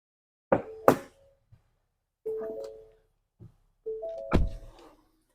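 Doors of a Ford Expedition fire command vehicle shutting, a few separate solid thunks with short pauses, near and fairly loud, with faint tones ringing between them.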